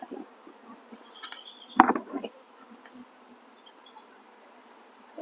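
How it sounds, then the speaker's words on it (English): Faint buzzing of bees in a crowded nuc beehive box, with scattered clicks and knocks of handling the box and a sharp clack midway. "There's a lot of bees in this box"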